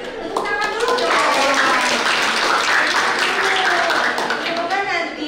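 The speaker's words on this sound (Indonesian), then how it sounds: "Tepuk tangan dulu dong." Audience applause fills a university lecture hall during an entrepreneurship talk, steady dense clapping from many hands lasting several seconds at a strong, even level.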